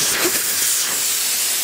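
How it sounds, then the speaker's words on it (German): Air rushes out of a low-profile tyre once its valve core is unscrewed, a loud, steady hiss up close that stops abruptly at the end. "müssen wir erstmal die Luft auslassen. Das heißt, den Ventileinsatz schrauben wir mal raus"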